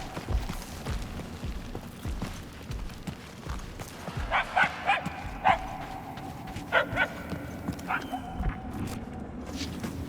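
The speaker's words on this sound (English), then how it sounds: "We are no closer to the source of the barking." Dog barking in the video game Marvel's Guardians of the Galaxy, with several clusters of sharp barks at a moderate distance over a continuous ambient game soundscape.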